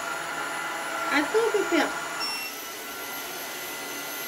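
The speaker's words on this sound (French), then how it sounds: "Donc on appuie sur on ici. Non, vous ne voyez rien, je le avance sur on. Et là il va démarrer." OSOTEK H200 Lite wet vacuum cleaner running with a steady, high-pitched motor whine and airflow hiss throughout, while someone speaks briefly in the middle.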